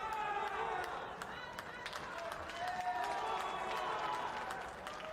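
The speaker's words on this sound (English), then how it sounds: "And the crowd chanting Omar." A crowd cheering and clapping at the final of a jiu-jitsu world championship in Abu Dhabi, a continuous roar with sharp claps, while a commentator talks over it.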